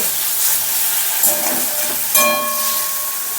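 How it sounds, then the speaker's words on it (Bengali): Kochu loti (taro stolons) frying with sugar in a pan while being stirred, a loud continuous sizzle and hiss with a couple of sharp scraping strokes from the stirring utensil. "অল্প পরিমাণ চিনি দিয়ে দিচ্ছি একটু নাড়িয়ে দিচ্ছি"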